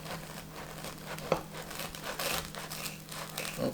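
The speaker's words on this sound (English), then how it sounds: "So I cut my bread like this." Bread being cut for a grilled peanut butter and jelly sandwich with banana slices, soft crinkly sawing and tearing strokes with one sharp tap, close and fairly quiet.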